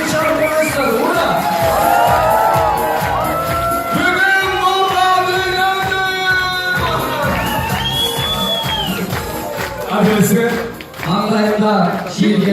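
A crowd cheers at a Kyrgyz bride's farewell wedding celebration, loud overlapping shouts and whoops with raised voices rising and falling throughout, close and lively.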